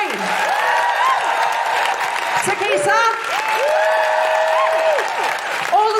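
Audience applause at the close of a Guilty Feminist comedy podcast recording at Kings Place, London, for comedian Eleanor Conway, with steady clapping and cheering throughout, voices speaking over it and tonal music sounding alongside.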